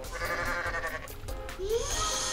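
A goat in the video game Goat Simulator gives a short, nasal, wavering bleat against a low background of game ambience, close and fairly clear.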